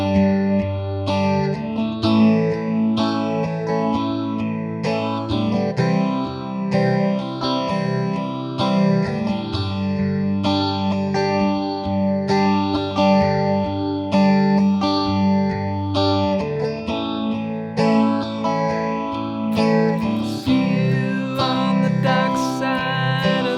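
Electric guitar playing a chorus section through chorus and distortion effects, sustained strummed chords and melodic lines ringing steadily at even loudness throughout, with no talking.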